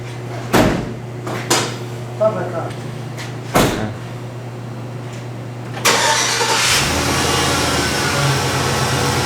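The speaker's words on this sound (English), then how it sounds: "And then actually starting the car to see if it works." A Chevy Express van's 4.8 V8 engine cranks in a few short bursts over a low hum after a starter replacement, then catches and settles into a steady running rumble, with clicks and knocks along the way.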